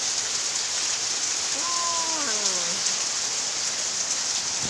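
Heavy rain falls in a dense, steady hiss across the whole stretch, with a brief rising and falling tonal sound partway through.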